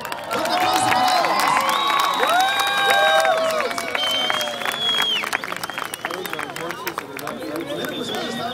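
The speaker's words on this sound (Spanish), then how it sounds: "¡Fuerte aplauso para ellos!" A festival crowd at a bonfire lighting in La Mision cheers, whistles and claps, with shouting voices and children yelling over lively applause that slowly thins out.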